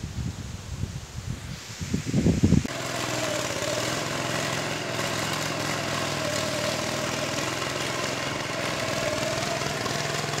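A tractor engine runs in a paddy field being prepared for rice planting, starting abruptly after a brief rustle and then holding a steady, droning mid-pitched idle close by for the rest of the clip.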